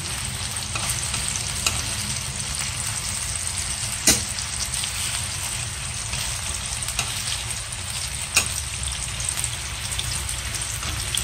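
Bacon frying with onion in a pan, a dense, even sizzle and crackle like light rain, close and steady, with a couple of sharp utensil clinks and no speech.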